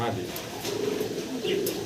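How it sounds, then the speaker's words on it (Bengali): Afsan grizzle racer pigeons coo softly and steadily, a low rolling murmur close by, with a few brief higher chirps and rustles over it. "আর দুইটা দেখতে পারতেছেন আফসান গ্রিজেল রেসার কবুতর"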